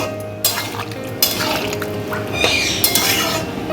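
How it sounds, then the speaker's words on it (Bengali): Prawn and okra curry is stirred in a pan, with a spoon scraping and clinking against the metal in several sharp strokes over a low sizzle, close by and with no talk. "সব কিছু আর একবার ভালোভাবে নেড়ে নেব"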